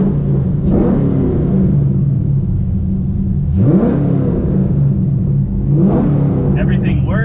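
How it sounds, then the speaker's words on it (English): A repaired Nissan 350Z engine revs three times in succession, each blip rising loud and close over a steady idle rumble, with people talking nearby. "Rev it up a little"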